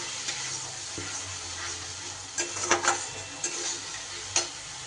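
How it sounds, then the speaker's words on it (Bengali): Ginger and green chili paste being sautéed with spices in a pan, a steady soft sizzle with occasional stirring scrapes and clinks near the end, no talk. "মশলার সাথে একটু ভালো করে কষিয়ে নেব।"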